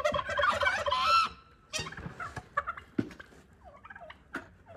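Turkeys at home gobble in a loud rattling burst at the start, followed by scattered shorter clucks and calls that fade toward the end, with no voices.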